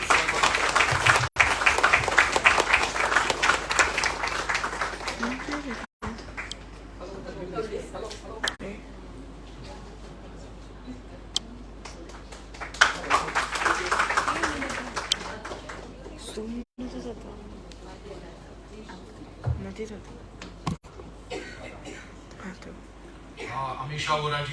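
Audience clapping at a book launch event in Mumbai, steady applause with crowd chatter running through most of the stretch, swelling again midway, with voices and hubbub underneath.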